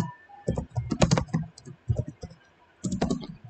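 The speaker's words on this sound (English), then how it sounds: "Sorry that you have to bear witness to me slowly, agonizingly typing like that." Someone types slowly on a computer keyboard, producing irregular clusters of close, crisp key clicks separated by brief pauses.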